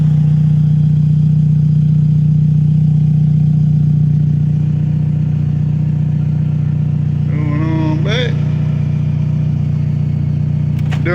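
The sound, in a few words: car engine backing up onto ramps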